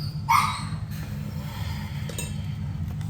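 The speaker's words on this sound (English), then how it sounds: "This damn dog." A dog gives a single sharp bark near the start, then only a low steady indoor hum remains, with no talking.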